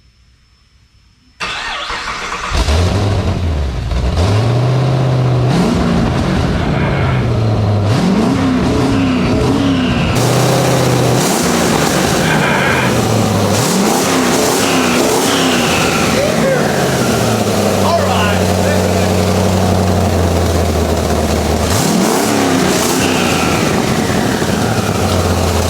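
A twin-turbo 1959 Chevrolet Apache pickup engine starts after a quiet moment, then runs loud and close with a series of rising and falling revs over a rough idle, and voices are audible in the background.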